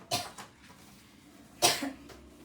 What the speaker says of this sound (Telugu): అరే నాకు దగ్గు వస్తుంది